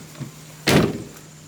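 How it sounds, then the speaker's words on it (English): A BMW 540i car door makes a single brief thunk-like opening or latch sound, close and moderately loud, with faint background noise before it. "the door can now open now"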